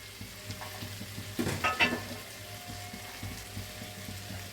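Fried tengra fish tipped into a hot curry pan with potato and aubergine, setting off a brief loud sizzle and spatter over a steady background frying crackle.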